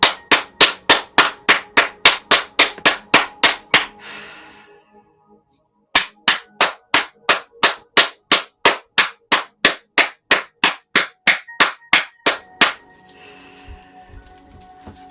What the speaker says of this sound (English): Just firmly clapping your hands intentionally to clear some energy